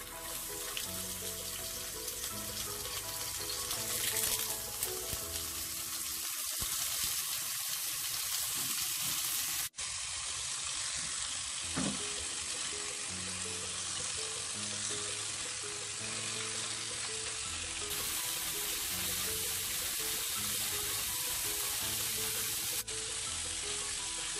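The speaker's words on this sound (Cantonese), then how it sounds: "雞皮嗰邊我哋擺向下煎" Marinated chicken wings pan-frying skin side down give a steady, close sizzle that runs through the whole stretch, with brief clatters and a short break partway through, and no talking.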